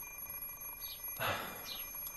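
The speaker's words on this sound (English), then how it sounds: "I stopped the alarm clock with a sigh." An alarm clock in the Fate/Stay Night video game rings with short, bright electronic chirps that repeat over a steady hum, at a modest level and with no talk over it.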